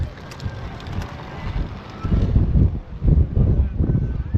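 Strong gusty wind over Swanage Bay in Dorset, roaring and buffeting close against the microphone in rising and falling surges, heavier in the second half, with no voices.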